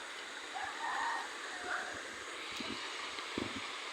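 Strong rushing water from a forest stream or waterfall in Laguna makes a steady broadband hiss, close and constant, with faint distant voices and small knocks underneath.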